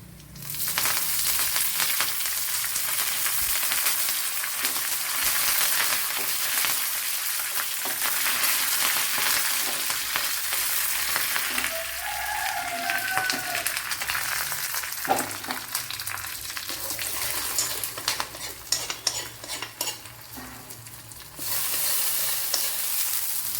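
Curry leaves go into hot oil after dried red chilies for an egg stew, setting off a loud, continuous, close sizzle and crackle that runs almost unbroken, with occasional stirring scrapes.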